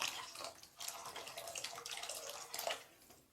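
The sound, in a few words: adding water to pea kurma while cooking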